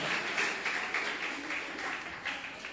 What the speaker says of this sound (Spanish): Denle ese aplauso al Señor, porque es para Él